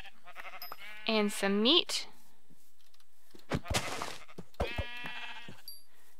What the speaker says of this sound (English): I'm going to go ahead and kill some sheep